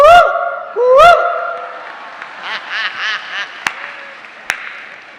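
A person imitates the koel bird's call, giving two rising, sing-song cooing cries close up, followed by scattered crowd laughter and applause at a religious gathering.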